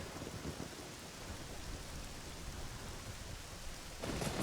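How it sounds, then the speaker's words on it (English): A thunderstorm in The Legend of Zelda: Ocarina of Time gives steady, dense rain with low rumbling thunder throughout, growing slightly louder near the end. "Okay, it's storming."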